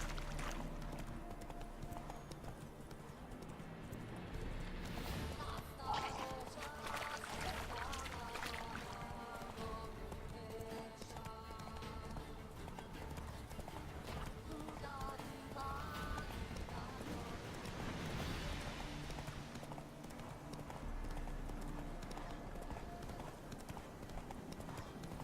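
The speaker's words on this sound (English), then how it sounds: "Giddy up. Really, Roach? Slow down." Horse hooves gallop in a steady clip-clop rhythm throughout The Witcher 3 video game, a continuous moderate ride with a faint game soundscape beneath.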